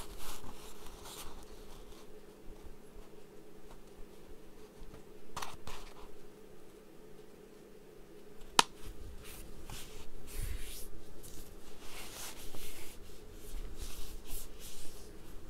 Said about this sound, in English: Fold our paper in half.